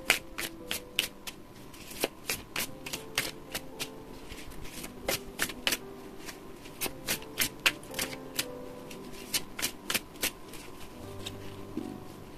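Tarot and oracle cards are shuffled by hand, giving a run of crisp, close riffling snaps and soft slaps at an irregular rhythm, with no voices.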